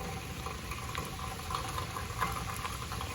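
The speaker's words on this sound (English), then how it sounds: "you can see where the water is coming out under the driveway" Water seeps and trickles out from under a cracked driveway in an erosion problem, a steady low babbling wash with faint bubbling, continuous and fairly quiet outdoors.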